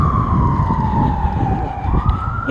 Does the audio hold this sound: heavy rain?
no